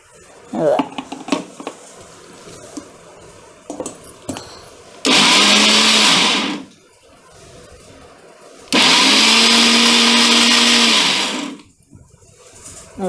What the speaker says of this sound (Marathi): एकदाच मिक्सरला फिरवायचं